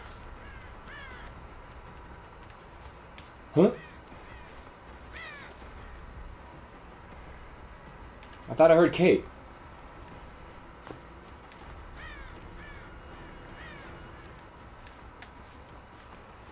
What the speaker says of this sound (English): What's that crow there?